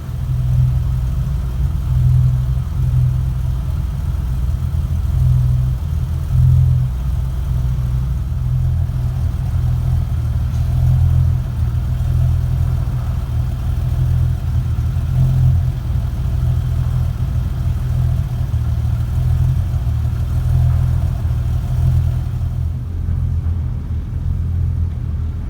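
A BMW E34 535i engine idles steadily and evenly after an airflow meter adjustment, a continuous low rumble with a smooth, unchanging rhythm, close and alone throughout.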